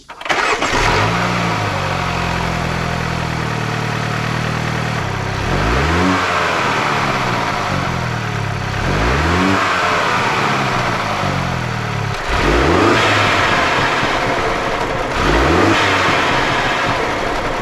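A Mini Cooper turbo engine with an aftermarket intake hardpipe cranks and starts, then revs repeatedly in several sharp bursts that rise and fall, loud and close, with no talking.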